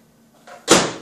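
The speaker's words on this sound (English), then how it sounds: "Shut our microwave" A quick rustle and then a single solid thump as a small appliance door is shut close by.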